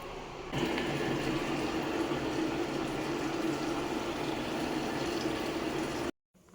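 A washing machine fills with water, a steady, loud rushing flow that starts abruptly and continues unbroken for several seconds before cutting off.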